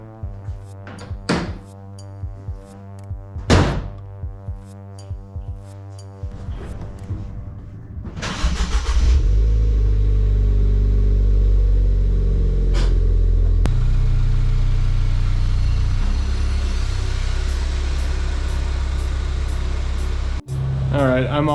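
A Ford Fairlane engine cranks after a few clunks and door thuds, catches with a rev, then settles into a loud, steady idle close by, with a voice talking early on.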